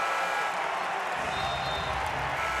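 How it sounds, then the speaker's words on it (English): A basketball crowd in Peoria during a Drake at Bradley game gives a dense, continuous roar of cheering and clapping that swells slightly partway through. "And this crowd is really coming alive here in Peoria."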